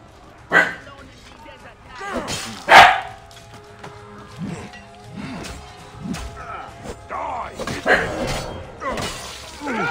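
A dog barks in several sharp, separate bursts amid game sounds with crashing impacts, while a person talks over the action.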